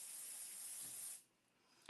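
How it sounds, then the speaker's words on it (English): Pixie spray mists from a spray bottle as a single soft, steady hiss lasting about a second, then fades to quiet with a faint final puff. "I'm going to do a little pixie spray"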